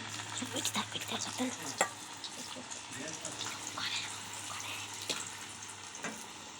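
French fries stirred and mixed with magic masala in a pan, with steady close scraping and tossing over a soft sizzle and a low, constant hum.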